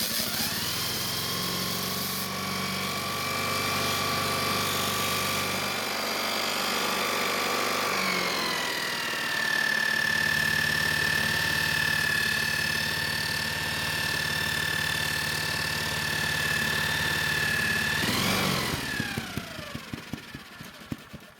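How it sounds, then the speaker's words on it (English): Honda lawn mower engine running steadily, its pitch shifting as the throttle lever is moved down and back up, then sputtering and slowly dying out; loud, close and continuous with no talking. "after moving the throttle lever to slow the engine down, I then moved it back to increase the engine speed, and then it puffed out some black smoke, and then slowly died"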